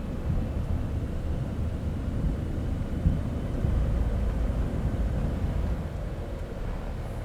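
A Citation X business jet roaring down the runway and lifting off in Microsoft Flight Simulator 2024, a steady loud engine rumble holding through the whole span without talk.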